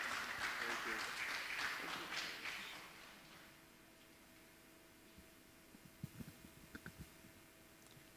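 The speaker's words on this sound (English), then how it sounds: "I think we can clap until he gets to the podium." Audience applause at a memorial lecture hall, moderate clapping that fades out over a few seconds, followed by quiet room tone with a few scattered taps.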